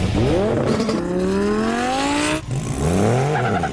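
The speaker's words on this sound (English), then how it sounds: "The fastest cars, hitting speeds over 260 miles per hour on an airport runway." Race cars roar along an airport runway in half-mile airport racing at over 260 mph. Loud engines rise in pitch as they accelerate, one car sweeps past, and a second follows close behind.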